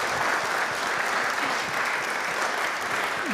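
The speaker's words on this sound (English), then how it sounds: "Let's give him a round of applause." An audience at a sketching talk applauds, a dense, steady wash of clapping heard close throughout with no voices over it.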